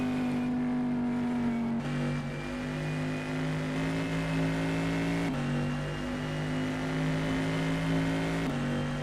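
Steady engine whine of race cars running at the Daytona 24 Hours, a sustained in-car drone with tones stepping in pitch at each gear change, with no voices.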